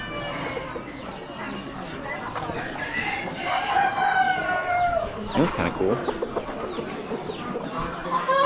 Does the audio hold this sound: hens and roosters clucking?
yes